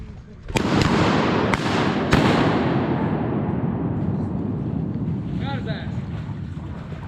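Shotgun shots while duck hunting on public land in Arkansas, three sharp blasts spaced within the first couple of seconds over steady wind and outdoor noise, with a faint call-like sound later.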